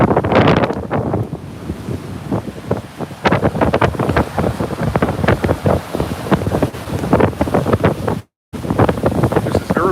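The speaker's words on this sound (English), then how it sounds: "Get a little bit of overwash here. Got a high tide right now." Storm surf at Vero Beach during high tide with Nicole's winds, waves surging and washing up over the beach in repeated loud crashes, heavy wind buffeting the microphone throughout, brief dropout near the end.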